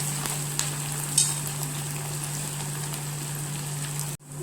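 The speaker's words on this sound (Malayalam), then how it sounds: "ഇഞ്ചി, പച്ചമുളക്, കറിവേപ്പില നന്നായി ഇളക്കി കൊടുക്കുക." Ginger, green chilli and curry leaves sizzle in a hot pan as they are stirred, a steady close frying hiss with a faint clink near the start and a brief dropout near the end.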